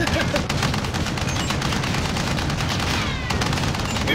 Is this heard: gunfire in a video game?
yes